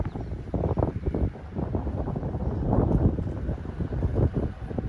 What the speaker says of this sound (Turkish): İnanılmaz kuvvetli rüzgar var.